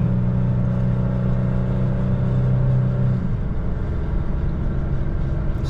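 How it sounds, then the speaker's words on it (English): A 2020 Toyota Tacoma engine labors steadily while towing a 4300 lb travel trailer up a very steep hill at about 60 km/h, a loud continuous droning rumble with a drop in pitch partway through, heard alone from inside the cab. "you can definitely hear the engine roaming"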